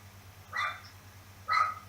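A dog gives two short, fairly faint barks about a second apart over a steady low electrical hum, with no one talking.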